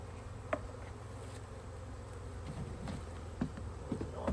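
Honeybees buzz quietly at close range during a honey harvest, a low steady drone with a few brief louder passes of wings near the microphone.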